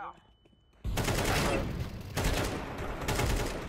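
Rapid bursts of gunfire in Counter-Strike 2 on the Mirage map erupt after a quiet moment and continue densely and loudly for a few seconds, close and continuous.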